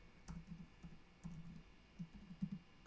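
Someone types on a computer keyboard: soft, uneven bursts of clicking keystrokes, close and quiet in an otherwise still room.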